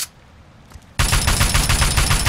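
Sustained automatic gunfire from an assault rifle in Fallout 3, bursting in abruptly after a quiet lull and continuing as a dense, loud, rapid stream of shots.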